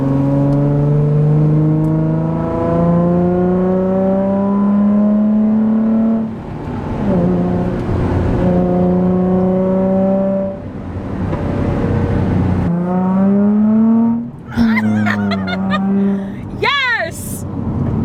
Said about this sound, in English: now I'm going to let Greg drive the Z because he's a much better driver than I am.